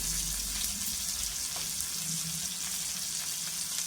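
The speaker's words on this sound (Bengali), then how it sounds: "দিয়ে ভালো করে ভেজে নিব। আম টমেটো তো ভেজে নিব" Green mango and tomato frying with whole spices in a pan, a steady soft hiss of sizzling oil with faint clinks, fairly quiet and continuous.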